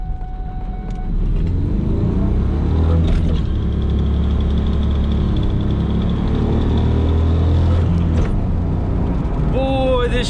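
A manual car fitted with a short-throw shifter pulls hard through its gears, the engine roaring loud and close with brief dips at each shift, and a voice comes in briefly near the end.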